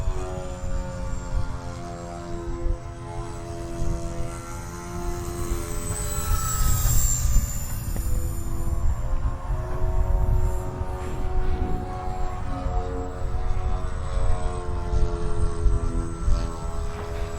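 E-flite SR-71 Blackbird RC jet with twin 40mm electric ducted fans at full throttle: a steady, loud whining roar with layered tonal harmonics that swells and holds as it passes overhead, heard outdoors without talk.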